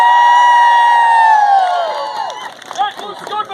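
A live audience at a comic Shakespeare stage performance cheers loudly: a sustained, bright whooping roar that slowly drops in pitch, then breaks into scattered shouts and yells.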